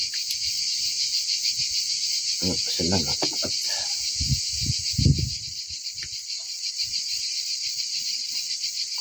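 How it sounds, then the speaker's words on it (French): Cicadas buzz in a steady, loud, continuous drone throughout, with a few brief spoken words and light handling noises underneath near the middle. "T'entends les cigales?"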